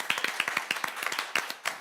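A small group claps quickly and unevenly, with distinct, fairly close hand strikes sounding in a short burst, sending off a participant on a Lithuanian business show.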